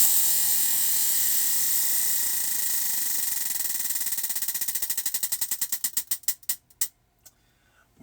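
A prize wheel spins with a rapid, even ratchet of clicks that gradually slows into distinct, widely spaced ticks before stopping, then a faint last tap. The clicking is close and clear, with no talk over it.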